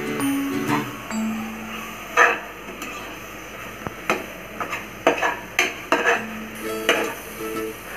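Biryani masala being stirred into mushroom biryani in a pan: a spoon scrapes and clatters against the metal in irregular knocks and scrapes, close and fairly clear, over a faint frying sizzle.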